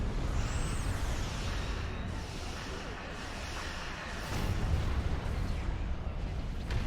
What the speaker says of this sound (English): That was definitely a devastating explosion.